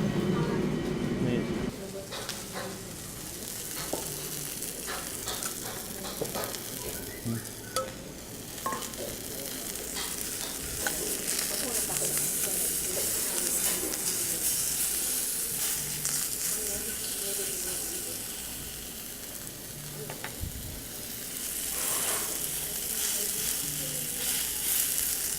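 Beef frying in a skillet for a Thai-style beef salad, a steady moderate sizzle with occasional utensil ticks, a voice speaking over parts of it.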